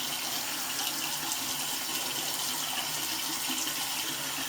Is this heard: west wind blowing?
no